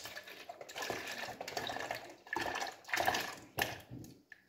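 Half a litre of milk poured into a container for a green squash juice, a soft uneven splashing and trickling of liquid heard close and fairly quiet, alone.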